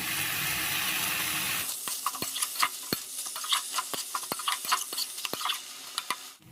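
Banana flower being stirred into a pan with potatoes and fried prawns, a soft steady sizzle giving way to close, irregular scraping and clinking of the spatula against the pan.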